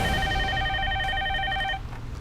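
A telephone rings as a call comes in, a steady electronic ring tone heard close and fairly loud for under two seconds before it cuts off.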